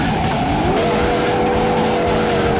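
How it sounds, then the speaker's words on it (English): A game car does a burnout with a steady high tire squeal riding over a loud continuous engine roar, the pitch sliding upward and then holding as the wheels spin in place. "Burnouts help keep the car responsive and moving"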